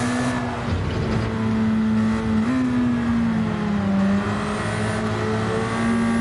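A Ford Sierra Cosworth engine in Gran Turismo 7 holds a steady, loud drone, its pitch wavering slightly as the throttle is feathered, with no voice over it.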